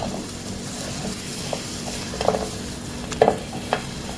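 Glazed Korean fried chicken wings (dakgangjeong) sizzling in a pan, a continuous close frying hiss with a few sharp scrapes and clinks of stirring, no talking.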